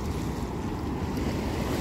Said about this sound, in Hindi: जैसे कि जी पानी पिछले कल से ज़्यादा छोड़ा हुआ है